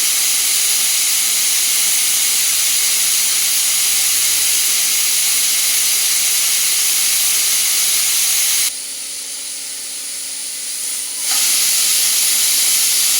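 A pressure cooker whistle shrieks with a loud, sustained jet of hissing steam, briefly easing off to a softer hiss before blasting again at full strength.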